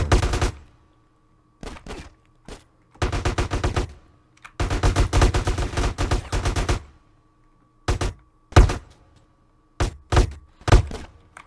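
Automatic gunfire crackles while a corridor is cleared in GTA San Andreas The Definitive Edition. Loud, rapid bursts of shots are separated by silent gaps, with a few single shots near the end.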